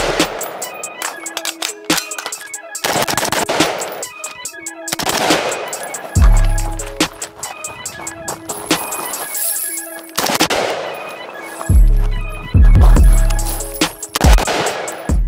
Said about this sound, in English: We got five shots.